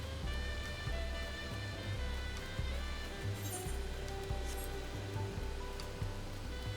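Heavy rain pours steadily in the Final Fantasy XIV game world, a dense hiss of drops with low rumbling underneath, even and continuous with no break.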